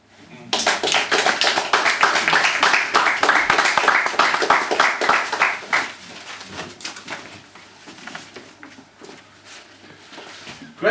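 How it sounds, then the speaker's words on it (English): An audience at a poetry reading breaks into dense, lively applause that fills the room for several seconds, then thins to scattered claps while a voice speaks over it. "So big applause please for ALVIN's first set tonight."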